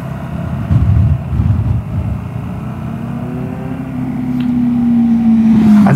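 A Vespa GTS 300 scooter with Tech Pulley variator rollers rides slowly along a road, its engine droning steadily with a rising whine as it pulls away, under some wind rumble.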